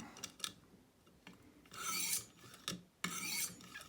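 A knife being sharpened on a ViperSharp knife sharpener, the Stonehocker Kodiak, makes several close, rasping scrapes in uneven strokes with brief gaps between passes.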